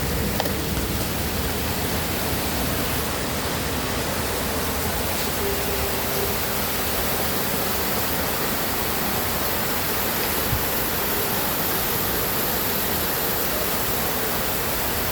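Heavy rain pours down steadily as a dense, even wash of noise that stays loud and unbroken from start to finish, with no voices over it.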